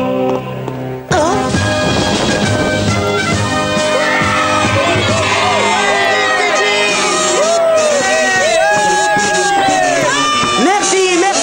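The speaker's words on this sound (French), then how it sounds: "Merci, merci, la foule en délire." Schoolyard crowd of children cheering wildly in a cartoon playground, a loud, sudden eruption of shrieks, whoops and shouting voices that stays intense throughout.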